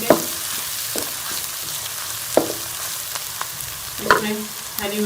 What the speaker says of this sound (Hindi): इसमें हम अदरक भी शामिल कर लेंगे। इसे भी 1 मिनट के लिए हम प्याज के साथ रोस्ट कर लेंगे।